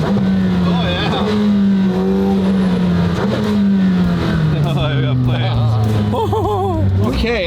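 A straight-piped McLaren Senna hypercar engine, loud and close, with a sustained raw exhaust drone that rises and falls through several revs and pitch sweeps, and voices talking over it.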